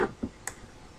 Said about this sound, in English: I'm just going to double click to unlock